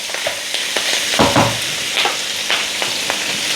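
Pork adobo sizzles steadily in a pan just after a sprinkle of water, with a burst of louder spitting and several spoon scrapes as it is stirred, close and without talk.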